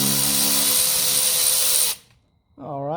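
Electric power tool loosening a bolt on a 1985 Mercedes 300SD during suspension work, a loud steady whirring drone for about two seconds that cuts off abruptly, followed by a voice speaking.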